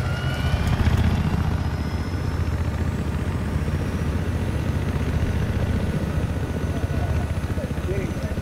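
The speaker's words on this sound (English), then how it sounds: "I'm gonna hop in a chopper." A helicopter in the Battlefield 4 video game, a continuous low rotor thrum and engine drone, loud and steady throughout.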